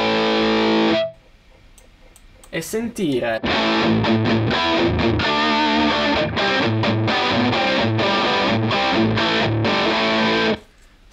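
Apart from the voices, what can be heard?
distorted electric guitar through Two Notes Torpedo Cab M studio simulation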